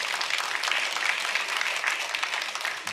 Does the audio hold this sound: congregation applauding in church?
yes